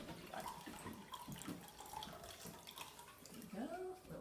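Room-temperature water pours steadily into a measuring cup, the gurgle rising slightly in pitch as it fills, close by and fairly quiet.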